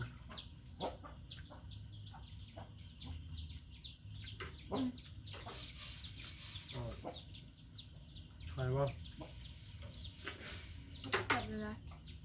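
Several chickens cluck and murmur close by in short, irregular bursts, with a louder run of clucks near the end over a low background hum.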